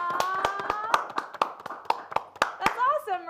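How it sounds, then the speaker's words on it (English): A small group claps hands in sharp, uneven bursts of a dozen or so claps, close and fairly loud, while people talk and cheer over it. "Let's get some claps in, huh?"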